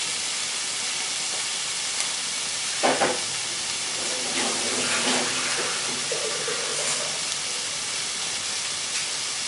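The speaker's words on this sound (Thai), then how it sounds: "กระทะตั้งไฟนะคะก็ใส่เบคอนลงไปเลยค่ะเราไม่ต้องใช้น้ำมันแล้วนะคะ" Bacon frying dry in a hot pan with no oil, giving a steady hiss and sizzle with a few sharper crackles and spatters, fairly close and moderate in level, with no talking.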